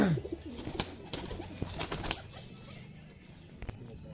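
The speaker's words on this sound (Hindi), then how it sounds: "बॉर्डर वाला कबूतर।" Pigeons coo in a low, throaty murmur with soft flutters and clicks, close by in a noisy loft, no talking.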